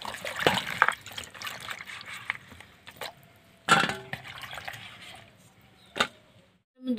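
Green and red chillies are rinsed in water by hand, with irregular splashes, trickles and drips, a few sharper sloshes standing out against quiet gaps, close by.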